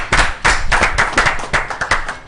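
A French television studio audience claps for a guest, a few distinct, sharp hand claps in an uneven rhythm rather than a full ovation, close and fairly loud, with no talking.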